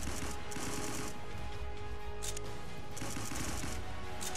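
Pistol fire in the sci-fi shooter Roblox Impulse: dense, rapid cracks repeating throughout, loud and close, with bursts of sharp high-end snaps over a steady rumbling game background.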